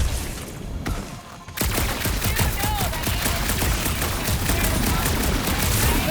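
Dense gunfire rings out in Marvel's Guardians of the Galaxy: after a brief lull, rapid continuous shots and bursts hammer close and loud, overlapping with explosive cracks through to the end.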